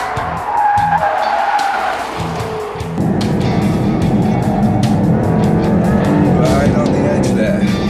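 A brand-new Jaguar F-Type Coupe, driven by an IndyCar racer on a test track, roars and skids with tires squealing continuously. Engine noise and talking play over it, loud and close.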